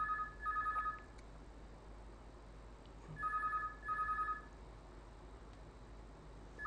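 A telephone rings during a live broadcast, two bursts of a trilling electronic bell separated by a quiet gap, steady and moderately loud over faint room hiss, with no one talking.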